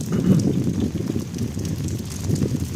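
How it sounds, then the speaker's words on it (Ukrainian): Rain pours onto a city street in Chernivtsi in the evening, a steady rushing wash of noise with no break and no one speaking. "Заливає трохи чернівців у нас сьогодні."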